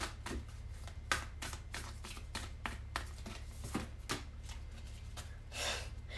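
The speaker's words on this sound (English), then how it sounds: "Okay, that's a lot of cards. I'm just gonna pick these back up." Tarot cards are gathered and shuffled by hand, a quick series of crisp riffling bursts in an uneven rhythm, close and clear against a quiet room.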